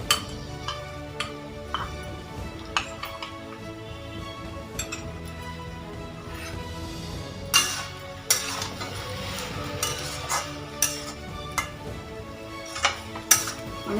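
Ash gourd sukto thickened with milk and flour is stirred in a metal pot, giving soft scraping with intermittent spoon-on-pot clinks that grow louder and more frequent toward the end, close by.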